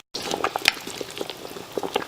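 Ogbono soup cooking in a pot on the stove, a close, steady bubbling with small pops and gurgles that start abruptly and keep going.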